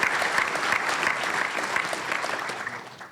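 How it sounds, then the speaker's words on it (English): An audience at a journalism celebration event breaks into a full, dense round of applause that carries on steadily and then begins to taper off near the end. "So let's give them a nice round of applause."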